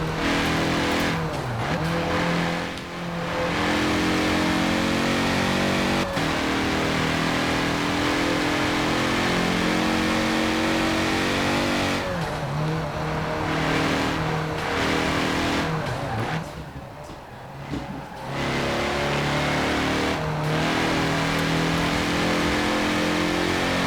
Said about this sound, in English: I'll let you enjoy the sound of the engine.